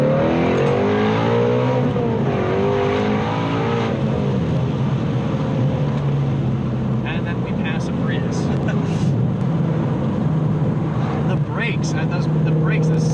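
A 2018 Ford Mustang Shelby GT350 revs and pulls hard at high RPM from inside the cabin, its engine note rising and falling in loud sweeps before settling to a steadier drone, with a person talking over it.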